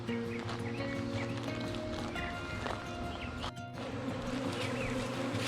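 Busy, close buzzing of many honeybees around a feisty hive full of queen cells, a continuous drone with individual bees whining past the microphone.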